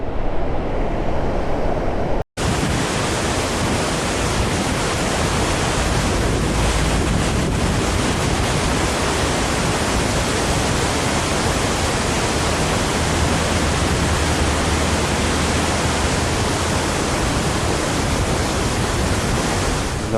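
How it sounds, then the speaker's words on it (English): A waterfall in Norwegian scenery roars as a dense, continuous wash of rushing water, loud and unbroken after a brief cut near the start. "Another waterfall."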